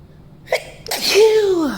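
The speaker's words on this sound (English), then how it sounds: "I gotta sneeze." A single sharp sneeze with a quick intake of breath, close and loud, followed by a short voiced trailing sound.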